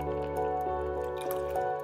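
Original lo-fi chillhop tune, soft and faint, with sustained mellow tones and gentle dripping, bubbly textures, no voice.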